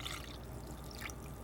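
Warm water is poured steadily onto yeast in a bowl while cooking, making a continuous soft trickle and splash that runs unbroken close to the mic for the whole moment.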